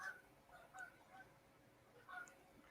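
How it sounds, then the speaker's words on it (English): Geese honking as they fly past outside a window, a few faint calls in two short bursts over a quiet room background. "there was some geese or ducks or something flying by my window"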